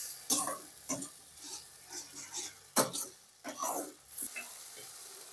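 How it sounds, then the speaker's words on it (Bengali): Spiced masala with a splash of water is stirred and sautéed in a pan for an egg pepper fry, giving steady sizzling broken by repeated bursts of spoon-scraping and stirring, close and moderately loud. "দিয়ে মশলাটাকে একটু কষিয়ে নেব।"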